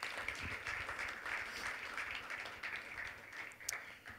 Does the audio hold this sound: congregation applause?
yes